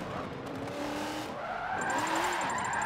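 A race car in Forza 7, a Ford NASCAR or V8 Supercar, brakes with a sustained tire squeal and skid that wavers in pitch over engine noise, loud and continuous, with no talking.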